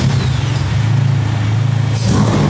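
Honda K24-powered Integra Type R revving on a dyno indoors, a loud sustained engine tone holding steady and then rising sharply near the end.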